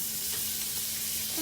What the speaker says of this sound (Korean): 자, 버터를 이렇게 듬뿍 넣어주시고요.